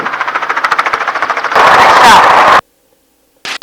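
Gunshots fired from a helicopter during an aerial hog hunt: a fast series of rhythmic shots over the droning rotor, then a louder sustained blast before sudden near silence and a brief final burst.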